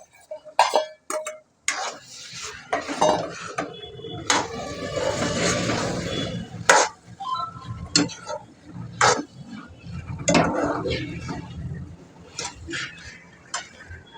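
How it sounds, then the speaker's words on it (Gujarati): Boiled chickpeas tipped into a pan of chana masala, clattering and clinking against the metal with a soft wet rustle and scraping stirs, close by, while a voice speaks in between the bursts. "હવે આપણે તેમાં જે આપણે બાફેલા ચણા હતા એ હવે આપણે એડ કરી લઈશું"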